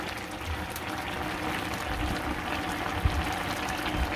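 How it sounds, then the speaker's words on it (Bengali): A pot of vegetable curry bubbles toward a boil over a fire, a dense continuous seething and gurgling that stays close and even throughout with no pauses. "তো তরকারিতে বলক এসে পড়ছে"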